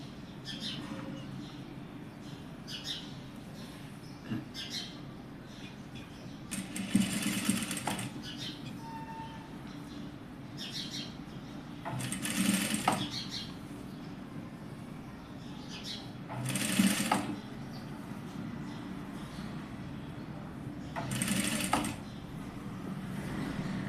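A sewing machine stitching pleats into fabric, heard as quiet intermittent whirring bursts of a few seconds each, spaced apart, with a low background hum and faint chirps.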